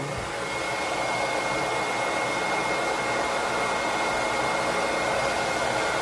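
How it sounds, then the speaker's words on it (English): A hair dryer on low, warm setting, aimed at a chick, running steadily with a constant airy whoosh and faint whine, close and unchanging throughout. "this is where we need our blow dryer now"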